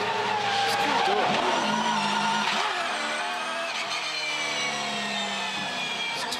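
A V8 Supercar race car skids with oversteer, its tyres squealing loudly and continuously over a high-revving engine note that wavers through the slide, close and intense with no talk.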